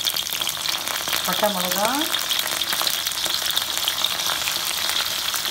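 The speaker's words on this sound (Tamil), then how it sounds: "பாருங்கள், வெங்காயம் நல்லா வதங்கிடுச்சு" Onions and whole spices sizzle steadily in a pan while fenugreek curry cooks, a continuous close frying hiss throughout, with a brief spoken phrase partway through.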